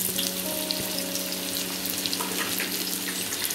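Finely chopped garlic and onion fry in a pan for chicken lollipops, giving a constant dense sizzle close up with faint spoon taps and no talking.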